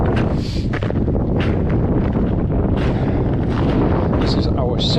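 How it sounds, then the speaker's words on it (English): Strong wind gusting outdoors on a cold day during a hike, a loud continuous rumble buffeting the microphone throughout with bursts of rushing noise. "Yeah, really quite windy out"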